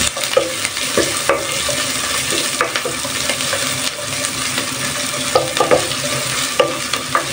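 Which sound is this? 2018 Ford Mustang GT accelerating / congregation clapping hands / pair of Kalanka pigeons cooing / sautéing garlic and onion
sautéing garlic and onion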